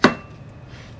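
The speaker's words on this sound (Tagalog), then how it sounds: "Hiwain ulit natin sa gitna." A single kitchen knife stroke cutting a cucumber in half, one crisp chop at the start followed by quiet room tone.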